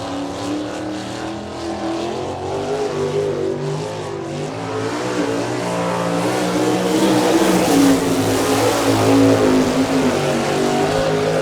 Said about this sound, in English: That's a Maxim chassis and a Kistler racing engine, Scott Miller.